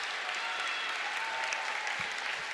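A women's college volleyball crowd at Wilkinson Hall, Indiana, applauds steadily for the Hoosiers against Nebraska, a dense, even wash of clapping that fills the hall without pause.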